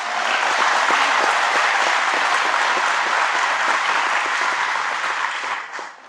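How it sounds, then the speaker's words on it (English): Audience at a local public meeting giving a round of applause, dense steady clapping from a crowd at even loudness that tapers off at the end. "let's give her a round of applause"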